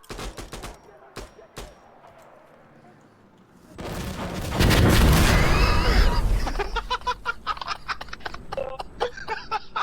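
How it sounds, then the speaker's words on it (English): Rapid gunfire and then a huge roaring explosion barrage from a gunship attack in the video game Insurgency: Sandstorm. Dense shots continue afterward, with brief voices mixed in. "There's a gunship coming my way."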